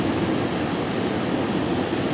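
Steady broadband roar of ocean waves breaking on a shore with rocky coral reef at the water's edge, a continuous close wash of surf with no distinct individual crashes.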